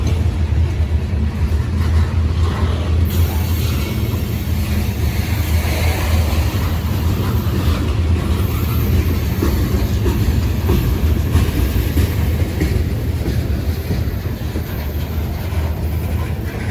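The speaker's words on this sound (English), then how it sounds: "This is a monster train." A long Norfolk Southern mixed freight train rolls past close by, a loud continuous rumble of wagons with rhythmic clickety-clack and faint wheel squeal lasting throughout, no voices.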